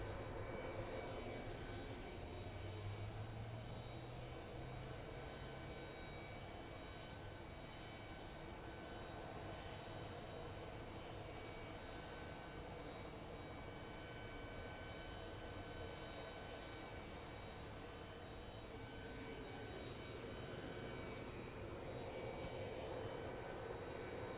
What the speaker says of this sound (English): a little CRJ is taxiing in Mach 10